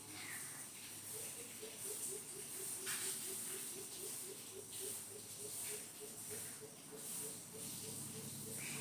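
Shrimp frying in a pan with salt and turmeric gives a steady soft hiss and sizzle with faint rhythmic bubbling, low and continuous throughout.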